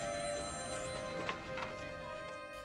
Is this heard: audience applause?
no